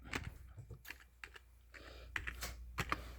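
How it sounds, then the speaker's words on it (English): Fast, irregular typing clatters on a computer keyboard with a cat-soiled keyset, the keystrokes quiet and close and coming in uneven bursts with short pauses. "Literally, I gotta use this keyboard"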